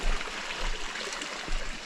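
A mountain stream along the Appalachian Trail in the White Mountains rushes steadily, a close, continuous broadband wash of flowing water with no talk over it.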